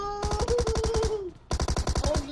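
Rapid automatic gunfire in a video game, two loud bursts of evenly spaced shots with a brief gap between them and a ringing tone running under the first burst.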